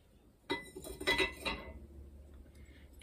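Ceramic bowls clink and knock together close by as they are lifted out of a kiln, a short cluster of bright chinks followed by quieter handling.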